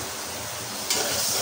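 Potato pieces fry in an oily spice masala as the base for a thin rohu fish curry. A steady close sizzle plays with low stirring sounds, and it turns brighter and hissier partway through, with no voices.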